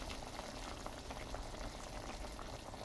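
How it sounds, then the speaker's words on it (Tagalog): Water pours steadily into a pot of chicken tinola with papaya, a continuous fizzing, bubbling rush close by, fairly quiet. "lalagyan na natin siya ng tubig"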